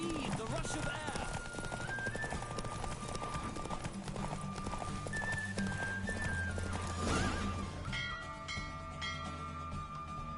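A horse gallops with rapid clip-clop hoofbeats and lets out a clear neigh midway in The Witcher 3, over game music, with a brief whoosh as the ride slows near the end.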